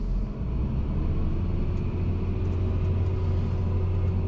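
A John Deere 350G excavator's engine revs, a deep steady rumble that holds loud and close for a few seconds, with no voices.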